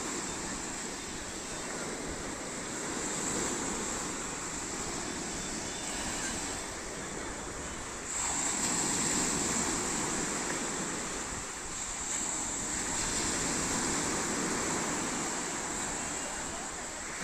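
Strong sea waves at Star Beach, Surigao del Norte, roll in as a steady, loud, broadband roar of surf with wind, swelling slightly in intensity about halfway through and never letting up.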